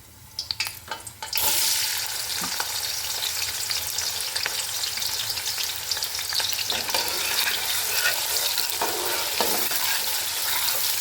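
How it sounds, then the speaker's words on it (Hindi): Chopped onion hits hot oil in a pan for beef nihari, bursting into a loud, continuous sizzle that holds steady, with a few clatters of stirring and no talking. "अब हम इसमें थोड़ा सा प्याज ऐड करते हैं।"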